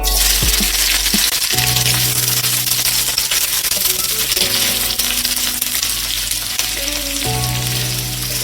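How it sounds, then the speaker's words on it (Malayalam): Sliced onions go into hot oil in a pan for a chicken roast, producing a loud, continuous close sizzle that holds steady throughout, with faint tonal sounds in the background. "എണ്ണ ചൂടായി വന്നിട്ടുണ്ട്. ഇതിലേക്ക് നമുക്ക് എടുത്തു വെച്ചിരിക്കുന്ന സവാള ഇട്ട് കൊടുക്കാം."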